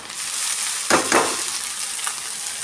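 Buttermilk chillies fry in hot oil in a pan, a steady close sizzle broken by two louder scraping stirs near the middle and a softer one toward the end, with no talking.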